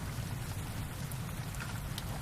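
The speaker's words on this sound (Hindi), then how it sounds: "अरे यार, ये बारिश है कि रुकने का नाम ही नहीं ले रही।" Dense, steady rainfall pours down as a constant hiss with a low rumble beneath, loud and unbroken, with no talking.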